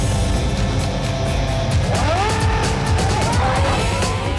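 A race car laps the Korean Formula One circuit, its engine droning loudly and steadily with rising and falling pitch through gear changes, tyres faintly squealing in the corners.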